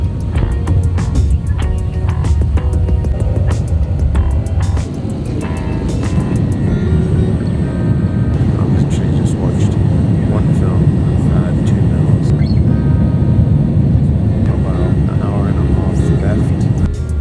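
Passenger airliner landing on a flight bound for Dubai, a loud steady cabin roar of engines and rushing air with a brief dip partway through, people talking faintly under the noise.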